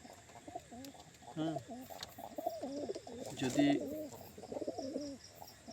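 Pigeons kept for sale coo in repeated throaty, rolling phrases close by, with a few chirps mixed in and someone speaking briefly between them.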